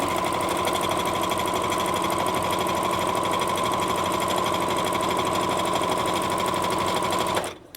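A sewing machine running steadily at full speed while stitching down a fabric seam, its loud, fast, even needle whirr continuing for several seconds before stopping abruptly at the end.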